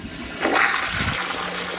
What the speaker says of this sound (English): it'll spray out the back and it's flushing.